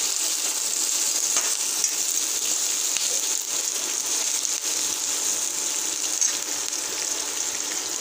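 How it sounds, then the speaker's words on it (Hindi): Pav bhaji masala frying toward golden in a home kitchen: a continuous bright, even sizzle with faint crackle, steady and close, with no voices. "इसको हम थोड़ा सा हम सुनहरा होने तक हम इसको फ्राई करेंगे"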